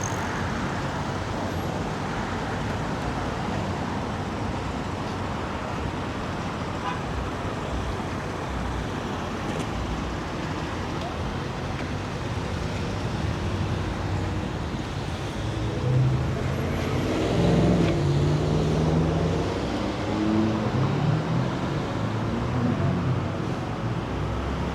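A Toronto city bus, route 95, loading and unloading at a busy Ellesmere Road intersection in Scarborough, with a steady wash of passing traffic that swells louder near the end.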